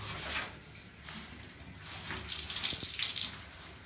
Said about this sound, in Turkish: Bu şekilde biraz su çıkabilir. O çünkü filtrede kalan su